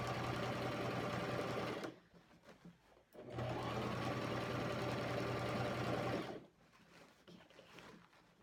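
Sewing trim onto a canvas bag, a sewing machine runs in two steady bursts separated by brief pauses, close and moderately loud, with no speech.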